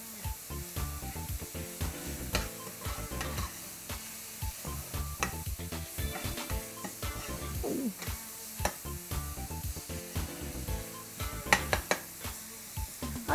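Ground meat browns in a pan for spicy taco cups, crackling and sizzling under busy stirring, with frequent spoon scrapes and clatters against the pan throughout.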